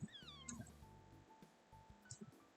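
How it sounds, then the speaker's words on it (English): A small white kitten meows in the video game Love Spell, a series of soft, high, rising and falling cartoonish mews that are faint and close, set over a quiet musical background. "she swishes her tiny tail while attempting to meow along to the song"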